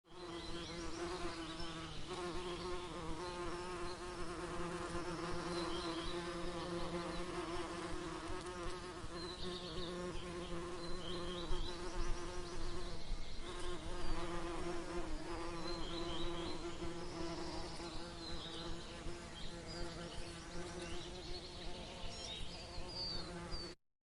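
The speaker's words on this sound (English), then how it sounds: "bees." Bumblebees buzzing close by around trees, a continuous droning hum with several overlapping wingbeat tones that rise and fall as the insects move, steady and fairly loud with no talking.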